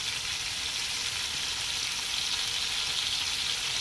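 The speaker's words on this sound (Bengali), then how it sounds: "এখন সব কিছুকে খুব ভালোভাবে ভালোভাবে মিশিয়ে কষিয়ে নিয়ে নেবো" A paste of ginger, garlic, onion and chili fries in hot oil while being stirred for a potol and prawn dish, giving a steady, loud, close sizzle with no talking.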